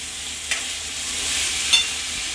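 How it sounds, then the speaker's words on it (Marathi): Finely chopped tomatoes frying with onions in a pan for pav bhaji, a soft continuous sizzle with two brief scrapes of a stirring spoon. "आता कांदा फ्राय झाले त्याच्यामध्ये मी टमाटर टाकते. टमाटर 2 चिरून घेतलेत बारीक. तो पण व्यवस्थित फ्राय करायचा आहे."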